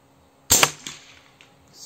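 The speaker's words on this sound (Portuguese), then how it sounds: "Primeiro disparo tá aí." A single sharp air rifle shot from a Slug Monster kit with a Fiora 600mm barrel cracks loudly and abruptly, then trails off in a short fading echo with a faint later tick.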